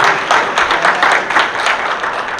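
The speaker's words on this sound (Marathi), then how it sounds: "एकदा जोरदार टाळ्या अभिषेक दादा" Applause at a family get-together after Abhishek's singing: a crowd of guests clapping steadily and loudly, a dense burst of many hands sustained throughout with slight swells.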